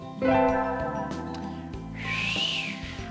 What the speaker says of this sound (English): I need to stop trying to whistle